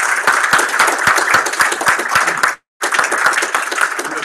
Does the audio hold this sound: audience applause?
yes